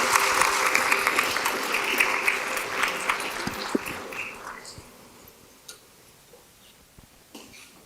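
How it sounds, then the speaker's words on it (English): Audience applause for ROTC cadets at a county school board meeting, a dense crowd clapping that starts loud and steady, then thins out and fades to scattered claps by the end. "Let's give them all one more round of applause."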